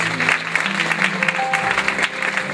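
Applause from an audience at a dance exhibition, a steady spread of clapping at moderate level with some faint background voices and a brief tone.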